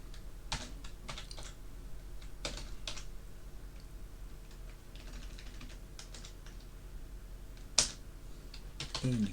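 Computer keyboard typing while entering commands, bursts of quiet key clicks in irregular clusters with pauses, ending with a sharper key strike and a flurry of keys.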